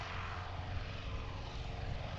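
A propeller aircraft flies past at a Scottish air show in Montrose, its engine drone loud and steady throughout with a broad roar and low hum.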